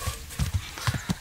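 Horse hooves clip-clop in the video game Kingdom Come Deliverance, a quick uneven run of five or six close hoof strikes in about a second, with no voices over them.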